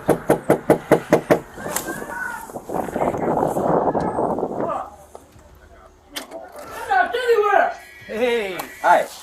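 Police knock sharply on a front door, a rapid series of about eight loud raps at close range, followed by a rumbling stretch and then voices talking.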